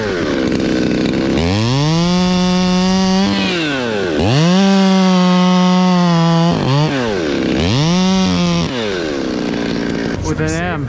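Chainsaw cutting a notch into a red maple, close and loud, revving up and down through several distinct bursts with brief dips between cuts.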